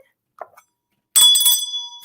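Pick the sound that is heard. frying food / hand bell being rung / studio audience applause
hand bell being rung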